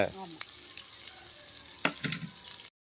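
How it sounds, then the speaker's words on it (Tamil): Two onions sautéing in a pan for a bitter gourd gravy, a broadband sizzle with scraping stirs, louder bursts of frying near the end before the sound cuts off, no talking. "ரெண்டு வெங்காயத்தை போட்டு இப்போ நல்லா வதக்கி எடுத்துடலாம்"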